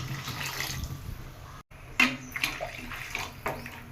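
Water runs into tamarind masala for a nethili fish gravy, a faint pouring and splashing with a brief pause, followed by a few sharper drips and clinks.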